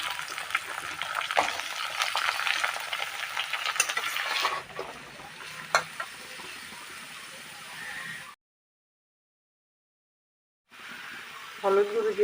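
Potatoes and drumsticks fry with browned onion in a pan, crackling and scraping under stirring for several seconds, then quieter sizzling, a stretch of silence, and a brief return of noise. Someone talks over the cooking.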